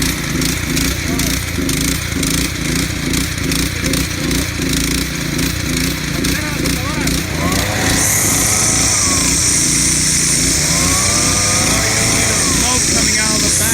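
Gas-powered leaf blowers and trimmers run loudly and continuously outdoors, their engine drone pulsing steadily and rising to a higher, harsher whine partway through, with people talking beneath the noise.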